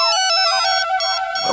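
A mobile phone ringtone plays loud and alone as a bright, repeating electronic melody of short chiming notes.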